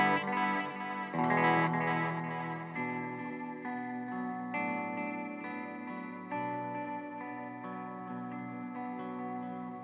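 An electric guitar plays sustained chords through a Boss DD-7 delay pedal set to modulated delay, the repeats shimmering and wavering as notes ring out continuously and loudly.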